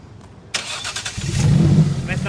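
A Jaguar van engine starts with a sudden loud burst, then settles into a low rumbling idle that swells toward the end as someone speaks over it.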